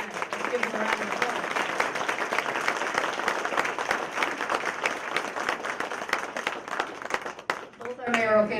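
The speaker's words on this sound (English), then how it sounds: "Let's give them a round of applause." A round of audience clapping follows a mayoral candidates forum, steady and moderately loud, with a few sharp individual claps standing out, then a voice begins speaking at the very end.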